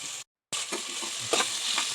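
Onions and green chilies fry in a pan and are stirred, giving a bright steady sizzle with scraping stir strokes, briefly cut out once, close and alone.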